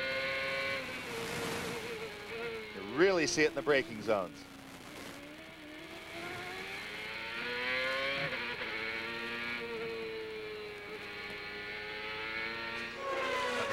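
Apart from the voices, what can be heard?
CART race cars at Laguna Seca, Christian Fittipaldi's car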